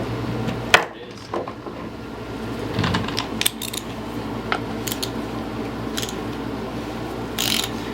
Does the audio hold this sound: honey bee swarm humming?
no